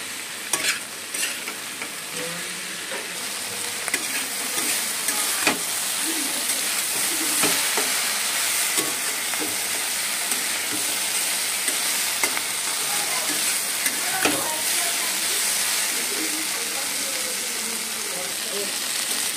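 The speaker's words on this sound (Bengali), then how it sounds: "লতিটা ভাজা ভাজা হয়ে গেছে" Taro stolons with salt and turmeric fry in a pan, cooked with prawns, giving a continuous close sizzle with frequent spatula stirs and scrapes, and a voice occasionally speaking over it.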